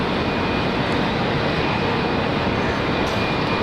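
Qantas jet arriving from Sydney at Brisbane airport, heard as a loud, steady broadband engine roar that holds constant throughout with no speech over it.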